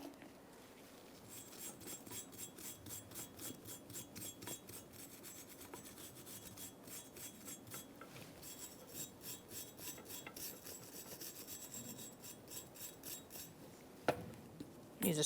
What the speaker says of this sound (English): Now I'm going to wire brush in here.